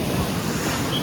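Sea waves at high tide on Digha beach, a dense, steady wash of surf roaring close by with buffeting wind noise, no voices.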